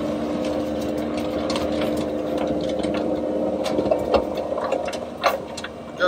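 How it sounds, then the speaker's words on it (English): Bobcat fitted with a CONETEKS 2.13M mulcher attachment clearing vegetation along a riverbank, a steady droning engine and whirring drum with scattered crackles and snaps of brush being ground, continuous and moderately loud. "we will clear the side of the river as much as we can with bobcat and attachment"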